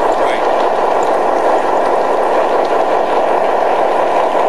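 A model railroad train, running on the inner loop of a layout with a Lehigh Valley caboose, gives a steady whirring electric hum that stays constant and fairly close for a few seconds.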